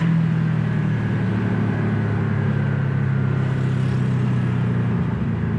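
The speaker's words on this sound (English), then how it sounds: "And hear the sports exhaust" Steady low engine rumble from a Porsche 718 Boxster S sports exhaust with PDK gearbox, continuous and fairly loud throughout, with a droning tone holding constant.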